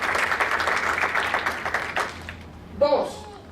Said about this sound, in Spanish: Un aplauso a Daniel